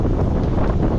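Wind of about 20 knots buffets the microphone aboard a sailboat at sea, a short, constant, loud rumbling gust with no voices.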